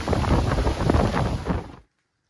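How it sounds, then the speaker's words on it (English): Fierce wind howling during a thunderstorm over Crotch Lake, Ontario, on a canoe camping trip: a loud, gusting roar that swells and surges for nearly two seconds, then cuts off abruptly to silence. "These winds are probably, I don't know, 70 or, well, probably 60 or 70 km, maybe a gust to 80. It is just howling."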